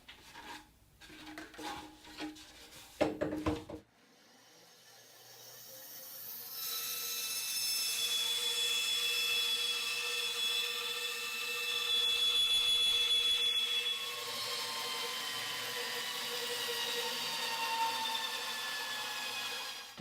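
A power saw blade cutting a circle in a wooden workpiece, pivoting on a pin for a round wall shelf: a few handling knocks, then a sustained, loud, whining cut with shifting tone that continues to the end.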